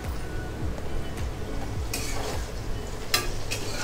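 Green chilies fry in hot oil in a pan alongside browned onions, a close, steady sizzle with stirring scrapes and a few bright clinks of utensil on metal.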